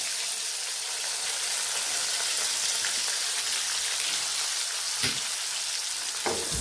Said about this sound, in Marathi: जिरं मोहरी झाले की याच्यात आपण बारीक चिरलेला कांदा टाकून घेऊया